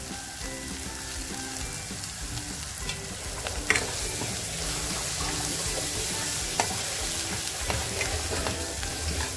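Village-style mutton masala with turmeric is sautéed in a pan, giving an even, close sizzle with scattered spatula scrapes and a couple of sharper clinks, no voices.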